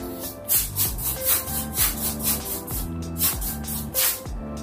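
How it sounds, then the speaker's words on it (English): Fabric freshener sprayed around a bedroom in a new house, a rapid series of loud, close hissing bursts in steady rhythm, each a short sharp spray repeated about every half second, with no talking. "Okay, last spray."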